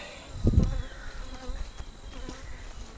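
Honeybees hum and buzz continuously close by as they fly around a strong hive, a busy droning swarm with one louder pass near the start, no voices.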